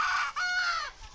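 Desi chickens on a free-range poultry farm cluck and a rooster crows in a short, loud burst of overlapping calls, heard up close without talk.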